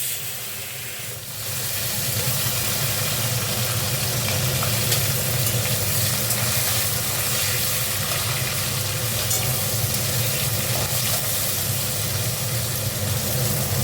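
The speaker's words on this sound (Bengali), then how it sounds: "পেঁয়াজটা একটু ভাজা ভাজা হোক।" Onions sizzle steadily in hot oil with panch phoron, a continuous loud hiss and crackle with no talking.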